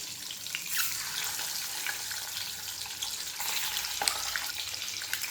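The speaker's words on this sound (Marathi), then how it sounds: "आता यामध्ये हे जे अंडे आहेत ते फक्त फ्राय करून घ्यायचे आहेत" Eggs frying in oil with a little turmeric in a wok, giving a steady, moderately loud crackling sizzle that runs throughout with occasional sharper pops and no voices.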